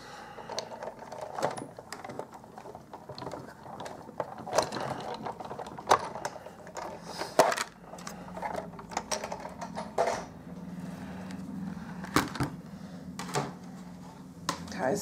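A textured embossing folder is cranked spine-first through a hand-operated die-cutting machine while making a Stampin' Up! card, giving close, irregular ratcheting clicks and gear grinding that come in uneven bursts.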